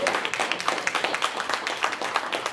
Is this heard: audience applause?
yes